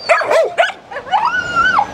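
A dog at a shelter barks and yips in short, close bursts, then lets out a long rising-and-falling whine.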